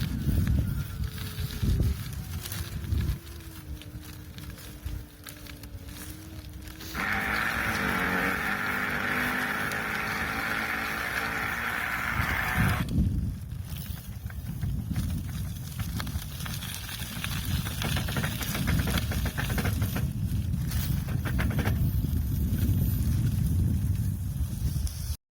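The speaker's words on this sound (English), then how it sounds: "the motor of the second bike seems to have broken after only a few months of use." Broken motor of a Kreidler Vitality e-bike, faulty after a few months of use, gives off a loud, sustained mechanical drone over wind noise, with a sharp stretch of harsher grinding in the middle.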